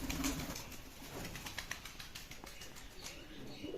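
Grey pigeons flap and stir close by, soft fluttering wing beats and rustles over a quiet, noisy background with a faint coo or two.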